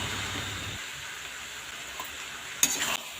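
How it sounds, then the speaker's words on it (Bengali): Peas with minced meat and spices get stirred in a pan with a metal spatula, a low sizzle under occasional scrapes and one louder clatter near the end. "এবার মটরটাকে বেশ খানিকক্ষণ খুন্তি দিয়ে নাড়াচাড়া করব"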